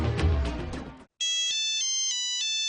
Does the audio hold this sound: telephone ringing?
yes